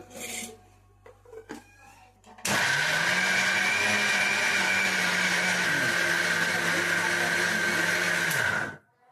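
After a few soft handling knocks, a mixer grinder blending crab curry masala starts with a loud, steady whirring roar, runs close for about six seconds, then cuts off.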